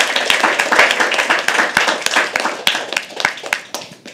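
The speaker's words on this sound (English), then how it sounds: "Can you please have an applause for that?" Audience applause at a live poetry open mic, a small crowd clapping close by with distinct individual claps, steady and then tapering slightly.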